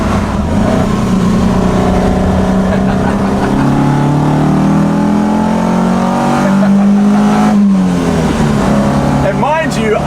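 A 1972 BMW 2002 Malaga engine revs up while driving, its pitch climbing steadily toward about 6,000 RPM before dropping sharply at a short shift, loud and close, with talk over the engine.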